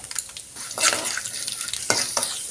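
Chana dal sizzles and crackles in hot oil, with a spoon stirring and scraping the pan in short bursts, close up.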